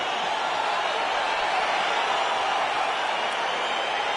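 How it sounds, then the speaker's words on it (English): A crowd roars at a fight in the UFC 4 video game as the bout gets underway, a dense, loud, unbroken wash of noise with no distinct voices. "crowd getting excited as this fight gets underway"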